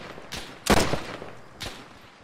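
Soldiers in the military game Arma 3 fire their rifles in slow deliberate shots: three separate reports, the middle one loudest, spaced apart and sounding moderately distant.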